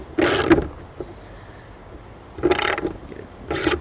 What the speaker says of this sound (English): just going to torque this one more time